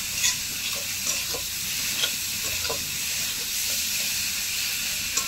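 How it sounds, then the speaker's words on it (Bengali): Potatoes frying in oil with spices, stirred in a pan as the spices release their oil; a steady broad sizzle with scattered scraping clicks from stirring, close and alone with no talk. "আলু তো মশলার সঙ্গে ভালোভাবে কষানো হয়ে গিয়েছে, মশলা থেকে তো তেল ছেড়ে দিয়েছে।"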